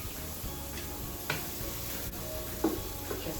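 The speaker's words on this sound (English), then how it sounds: "Time to add red onions to this pot" Red onions sizzle in a skillet where chicken was just cooked, a steady close frying hiss with a few soft scraping stirs and no talking.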